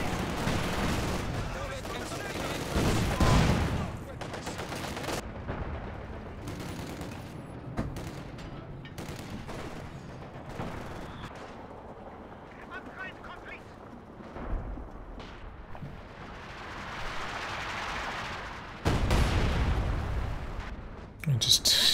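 Double LMG squad machine-gun fire in Company of Heroes 2, with rattling bursts, heavy booms and explosions in a dense battle mix that runs on and off under commentators talking.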